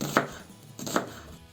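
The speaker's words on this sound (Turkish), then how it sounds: "bu şekilde doğrayalım soğanlarımızı" Two firm knife chops through onion onto a cutting board in a home kitchen, spaced about a second apart, close and clear with no talking.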